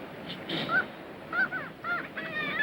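Several geese honk in short, nasal calls, coming in uneven bursts at moderate distance with brief pauses between them.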